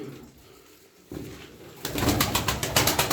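A flock of twelve tumbler pigeons is at their loft, with quiet ambience at first and then a rising burst of rapid, rhythmic wing flapping that grows louder and fairly close.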